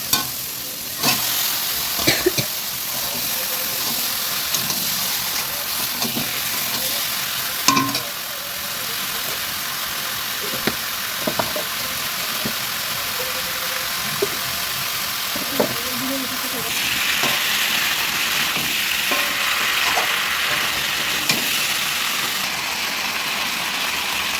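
Chicken kosha, a spiced chicken dish, fries in a pan under a steady close sizzle and hiss, with repeated sharp scraping strokes of a spoon stirring the meat at irregular intervals.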